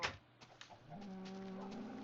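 Chickens in the Minecraft video game, faint clucking with a brief sharp noise at the start followed by a soft, steady warbling cackle.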